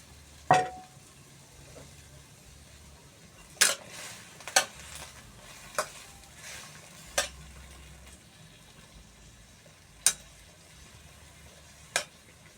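Chinese sausage frying in plain water in a pan, with a soft steady simmer under sharp, sparse clinks of a utensil against the pan, spaced several seconds apart.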